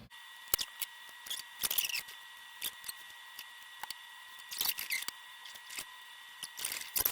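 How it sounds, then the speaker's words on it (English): Scissors snip through a fabric bunny pattern in short bursts of crisp, close cuts separated by pauses, with a steady faint background hum throughout. "Okay, so then let's cut this baby out."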